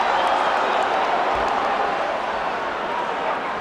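Steady, dense crowd roar from a mixed martial arts fight between Liddell and Silva, a continuous wash of arena noise with no distinct peaks.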